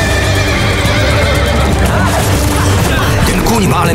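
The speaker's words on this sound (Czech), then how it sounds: "Kůň?" A horse neighs loudly amid a dense, busy film soundtrack, with the whinny rising over constant background noise and clattering.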